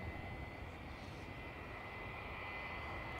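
Faint, steady roar of an aircraft taking off from runway 28 right at Dublin Airport, a distant engine drone that holds constant throughout the short stretch.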